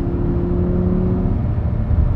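An Audi R8 engine drones at a steady 4000 rpm with a low, muffled hum and road rumble, fairly quiet inside the cabin, driving in rain.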